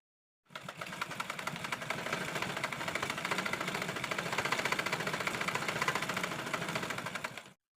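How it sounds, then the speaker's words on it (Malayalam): An electric sewing machine double-stitches the seam of a frock, running continuously in a steady, rapid mechanical rattle for about seven seconds with no talking. "അപ്പോൾ ഈ 2 ഇഞ്ചിലൂടെ ഞാൻ ഡബിൾ സ്റ്റിച്ച് ചെയ്യാൻ പോവുകയാണ്"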